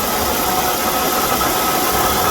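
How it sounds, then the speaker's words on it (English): A car's AC compressor that will not stop running hums steadily beneath engine idle, a constant broadband drone with no pauses, close and fairly loud throughout. "we can see that the compressor is constantly running"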